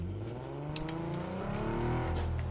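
A car in a battle royale video game pulls away with a steady engine drone that rises slightly in pitch as it accelerates, close and continuous with no talk.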